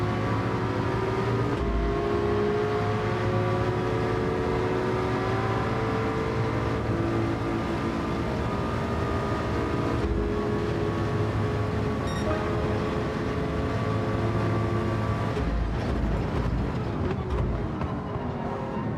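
Porsche race cars in a racing video game, engine tones droning and shifting pitch continuously throughout, loud and steady with gear changes, no talk.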